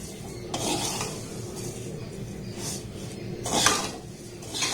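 Vermicelli stir-fried in ghee over a low gas flame, with a spoon scraping and clinking against the pan in several rough strokes over a soft, steady frying background.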